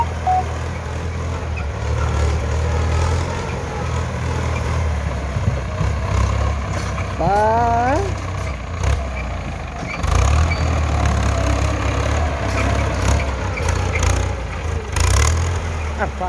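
A Ford 6600 tractor pulls a six-disc plough through a paddy field, its engine a steady low drone throughout while people talk over it.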